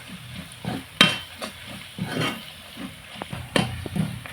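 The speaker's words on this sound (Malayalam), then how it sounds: "നല്ല ഗോൾഡൻ കളർ ആകുന്നത് വരയ്ക്ക് നമ്മളിങ്ങനെ മിക്സ് ചെയ്തുകൊണ്ടിരിക്കുക" Chicken roast mixture being stirred and fried in a pan over a wood-fired stove, with soft scraping and knocking of the spoon over a low sizzle, plus a few sharper clinks.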